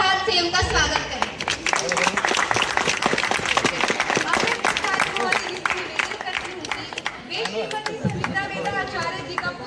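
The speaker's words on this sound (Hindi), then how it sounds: "कृपया तालियों की गड़गड़ाहट से उनका स्वागत करें।" Audience applause with hand clapping and crowd chatter greets a guest at a school cluster-level Rashtriya Ekta Parv 2024 event, dense and steady throughout with voices mixed in.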